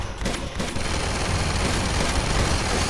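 Enemy machine gun fire in Uncharted 2, a sustained rapid burst of automatic shots rattling steadily for several seconds, loud and close, with no voices over it.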